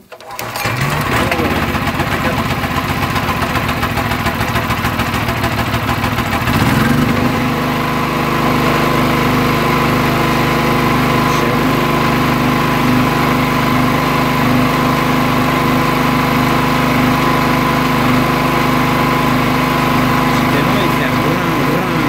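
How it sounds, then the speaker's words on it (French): A petrol generator engine runs after a pull-start, the opening cranking and catch giving way to a loud, steady, slightly uneven buzzing drone close by, with people talking over it. "redémarrer le groupe électrogène"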